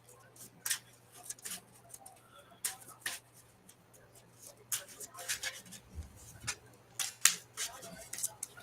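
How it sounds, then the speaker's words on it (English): A deck of Magic cards is shuffled during a paper Pauper tournament match, giving soft, faint riffling and clicking bursts at irregular intervals over a low hum. Quiet background voices can be heard. "I'm going to shuffle."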